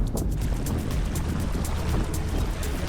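Underwater jetpack thrusters engage as the throttle is squeezed, a steady close churning rush of water and motor wash that holds at a constant loudness for the whole stretch, with no talk over it.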